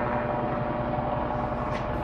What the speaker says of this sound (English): Cell phone video shows the helicopter Kobe Bryant was flying in shortly before it crashed.